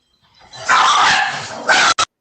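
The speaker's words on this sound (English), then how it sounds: "That sounds like our dog." A dog in a house yard gives a drawn-out whining yelp that swells into a bark, followed by two short, sharp barks, fairly close and clear with no talk.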